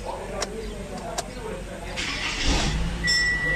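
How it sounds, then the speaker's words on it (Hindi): A 2014 Toyota Camry's engine cranks and catches in a noisy setting, a short rising burst of starter whine turning into a steady idle hum, with a few sharp clicks before it. "गाड़ी को करते हैं दोबारा स्टार्ट।"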